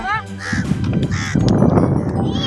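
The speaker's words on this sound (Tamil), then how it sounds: "காக்காவும் வந்து காக்கா கொஞ்சம் போடு ரிஷா" Crows caw at the seaside, giving several close, harsh calls spread over a couple of seconds above a busy background of rustle and murmur.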